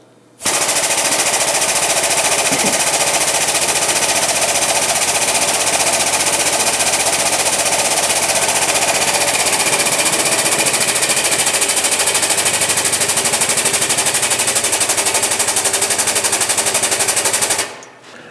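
A pneumatic air jack from Fab Heavy Parts raises a heavy machine with a loud, continuous rattling hiss that starts abruptly, runs steadily for about seventeen seconds, then cuts off.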